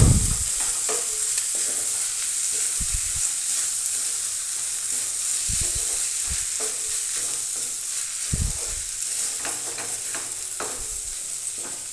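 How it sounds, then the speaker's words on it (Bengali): Grated potato frying with spices in a pan on medium heat, a constant close sizzle over which a spatula scrapes and knocks at irregular intervals, with no talking. "নেড়ে নেব ভালোভাবে, অল্প মিডিয়াম আছে নেড়ে নেব।"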